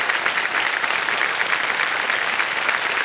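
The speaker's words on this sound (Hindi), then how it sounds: "तालियां बज जाए इनके लिए।" Studio audience on a televised quiz show clapping for a contestant and her parents, a dense, loud, even burst of applause filling the whole stretch with no voices.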